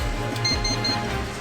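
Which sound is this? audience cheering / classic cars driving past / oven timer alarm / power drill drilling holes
oven timer alarm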